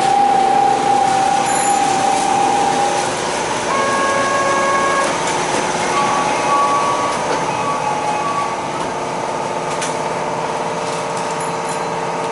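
Onboard sound of the 1102F electric train running, a steady rumble and hum with tonal motor whine that shifts in pitch, plus faint high chimes, filling the cabin continuously without speech.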